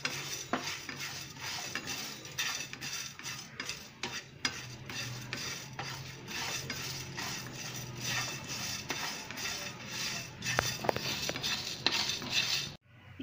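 Rasam powder spices dry-roasting in a pan while a utensil stirs and scrapes them in repeated close strokes, with a light crackle underneath, ending abruptly.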